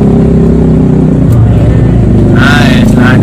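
A Honda Brio hatchback climbs a steep mountain road in second gear, its engine held above 2000 rpm in a loud, constant droning growl that swells slightly near the end.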